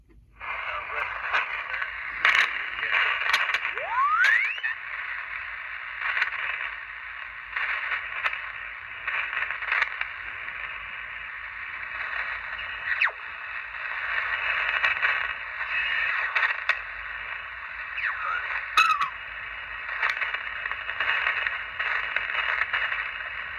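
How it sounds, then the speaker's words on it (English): Steady hiss of white noise from a radio receiver with squelch open fills the whole stretch, with occasional brief chirps and whistles rising through the constant noise. "Squelch opened up right here is what it sounds like. Just constant white noise."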